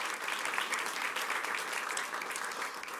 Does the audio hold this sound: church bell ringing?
no